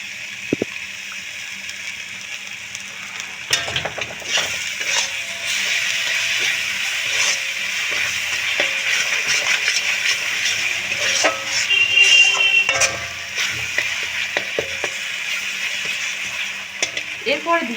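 Masala frying in a pan as mustard paste is added and stirred for a katla fish mustard-poppy curry, a close steady sizzle broken by scraping stir strokes and clinks.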